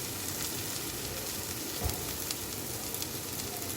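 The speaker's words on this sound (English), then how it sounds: "The cabbage is going inside." Cabbage being added to a hot pan for homemade fried rice, a steady, moderately quiet sizzle and crackle throughout, with a soft thump partway through and no talk.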